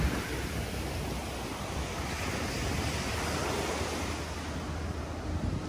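Steady wash of sea waves on the shore at Palm Beach, Florida, a continuous broadband roar with wind buffeting the microphone, no voices.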